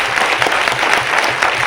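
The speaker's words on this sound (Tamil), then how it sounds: "பெரிய கைத்தட்டல் கொடுங்க." Audience applause from a crowd at a public event honouring someone, a dense, loud, even clatter of many hands clapping without pause.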